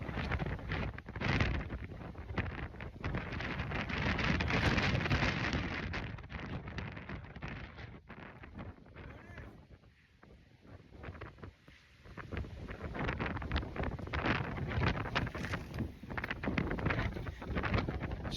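Strong storm wind blasting outdoors, a loud continuous roar that buffets the microphone and rises and falls in long gusts, easing briefly midway before surging again, with no one speaking.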